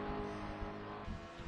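PlayStation race cars roar together in a tight pack, a dense, continuous engine drone that holds steady through the short burst without any voices.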